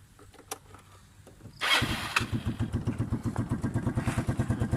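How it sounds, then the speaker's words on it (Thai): A 2012 Yamaha Fino motor scooter starts up and settles into a steady, near idle with a fast, even putter, after a few quiet clicks and knocks. "เครื่องเงียบเลยนะครับเครื่องเงียบเลยนะ"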